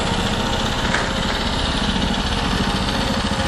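A small generator engine running on HHO at low RPM, giving a steady, close, continuous buzzing drone with an even rumble and no pauses.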